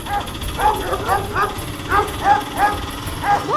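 Several dogs bark and yip in short repeated bursts, some closer and some farther, over a noisy outdoor background with faint voices underneath.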